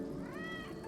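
A cat meows once in the video game Elder Scrolls Online, a short clear mewing call heard alone over a quiet background.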